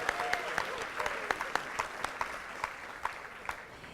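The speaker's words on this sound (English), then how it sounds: "Let's give everyone from Hillside another round of applause" A school board meeting audience gives an ongoing round of applause, with individual sharp claps popping out of a steady, moderately loud wash and faint voices underneath.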